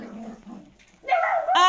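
Großspitz puppies in a dog room yip and whimper with short high bark-like cries, a soft whine first, then louder close yelps toward the end.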